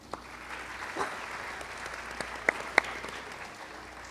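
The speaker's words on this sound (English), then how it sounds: "Let's give him another round of applause." Audience applause at an arangetram dance performance, steady even clapping from a seated crowd throughout with a few sharper nearby claps.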